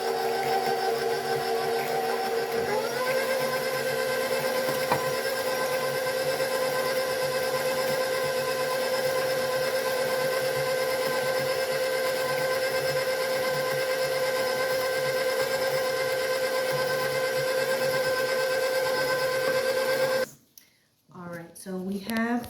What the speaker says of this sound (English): I'll give it a mix, let the mixer mix for like 2-3 rounds